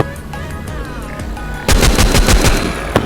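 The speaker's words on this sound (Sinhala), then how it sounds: "මැෂින් ගන් එකක්ද මිනි ගන් එකක්ද මන්ද මේකට කියන්නේ" Machine gun fire in The Walking Zombie 2 mobile zombie game, a loud rapid burst of repeated shots that starts abruptly halfway through and continues to the end, following quieter game background sounds.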